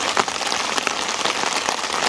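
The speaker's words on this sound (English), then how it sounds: "we're literally about 20 minutes into this rain now" Steady rain pattering across the surface of a carp lake in France in August, a dense continuous hiss of drops with a few louder splats, close and uninterrupted, no voices.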